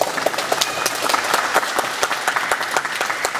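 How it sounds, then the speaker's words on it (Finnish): An audience at an aviation veterans' event at Malmi gives a steady burst of dense clapping that fills the whole moment, loud and close, with no voices over it. "eiköhän anneta isot taputukset kiitokseksi"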